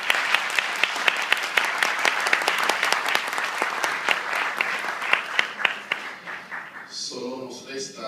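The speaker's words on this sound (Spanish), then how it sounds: "El aplauso más fuerte para él." An audience in Higüey applauds Dr. Edgar Hernández Mejía at an event unveiling a painting of the Virgin, with rapid, dense, loud clapping that tapers off before a voice begins speaking near the end.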